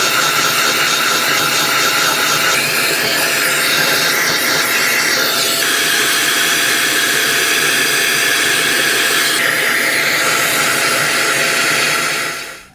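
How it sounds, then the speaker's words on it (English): A shop vacuum runs steadily and loudly while cleaning a Harman P-series pellet stove, giving a continuous roaring whoosh whose pitch shifts slightly as the nozzle moves, then cuts off at the very end. "Maybe I can just try to use my shop vac."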